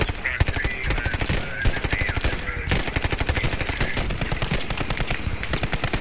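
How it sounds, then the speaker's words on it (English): Sustained machine gun fire in the Post Scriptum war game, a rapid, steady stream of loud shots running the full length with brief bursts of other gunfire, and faint voices underneath. "watch that machine gun"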